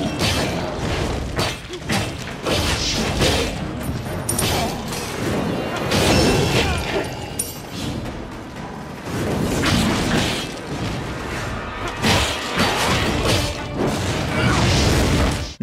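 Attack hits in the mobile hack-and-slash game Wild Blood on an iPod touch: dense, rapid clashing smacks and crashing impacts with whooshes, near-continuous over loud game music and effects, with a voice talking over them.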